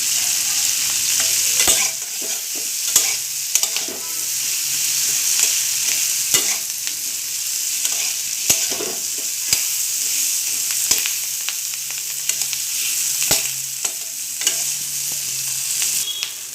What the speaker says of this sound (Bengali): এবার আমি এর মধ্যে দেবো পেঁয়াজ কুচি